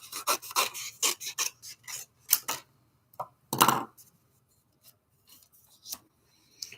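An electronic cutting machine cuts peacock paper, giving rapid, raspy strokes in quick bursts, then sparser single scrapes separated by quiet.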